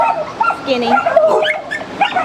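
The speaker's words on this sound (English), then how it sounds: "It's been barking at me the whole time I've been here, an hour." A dog yips and whimpers in short bursts close by, while a person talks over it.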